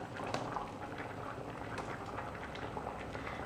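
Bamboo shoot curry bubbling at a steady boil in a pot, a continuous close burble of popping bubbles.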